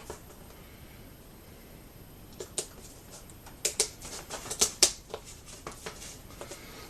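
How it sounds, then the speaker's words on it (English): Big scissors snip through material while building a small hive beetle trap, a quiet run of sharp close clicks and cuts that grows busier in the middle and then fades. "I'm just going to cut it with these big scissors"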